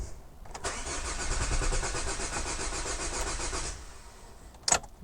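A Chevrolet Captiva's starter cranks for about three seconds with a rapid, even churning, then the engine catches and settles. A short knock follows close by.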